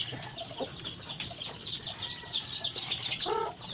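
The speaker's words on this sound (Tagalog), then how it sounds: "ito yung mga manok ko" Chickens cluck and chatter softly over a steady outdoor hiss, with a few louder bird calls near the end.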